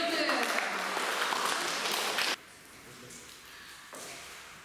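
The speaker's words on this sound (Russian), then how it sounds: "Аплодисменты." Audience applause at a 2019 final in Kazan greets a pair of finalists: loud, dense clapping for about two seconds, then it cuts off abruptly to a quieter room with faint murmuring voices.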